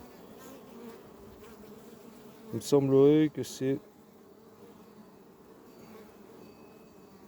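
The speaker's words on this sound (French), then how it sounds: "Bon là, il y a de belles abeilles." Honey bees buzz steadily around their hive colonies during late-July preparation for overwintering, a low continuous hum that carries through the whole stretch while someone speaks briefly in French midway.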